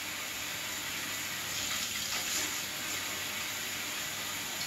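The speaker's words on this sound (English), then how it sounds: "So here we can just drink straight from the tap." Tap water runs steadily from a household faucet in Finland, a constant soft hiss and splash that stays even throughout with no talking.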